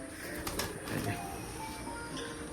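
Rajshahi pigeons kept at home cooing softly and close by, a low repeated coo over a steady background hum, with no talking.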